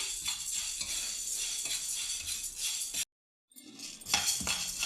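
Urad dal being dry-roasted slowly in a pan over a low flame, with soft continuous rattling and spoon-on-metal scraping, close by, briefly dropping to silence before resuming.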